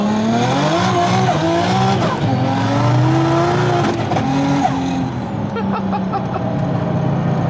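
A Ford Mustang GT350 fitted with a swapped-in Barra engine accelerates hard in second gear. The loud engine note rises and falls in pitch as revs climb, heard close up and dominating, with faint voices underneath.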